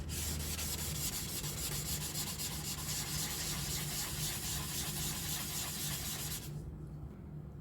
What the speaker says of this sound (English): you don't want to see me sanding for the next 10 minutes